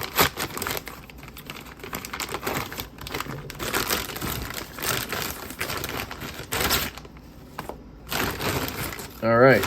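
A plastic package is cut open, with continuous crinkling and crackling of the wrapping close to the microphone.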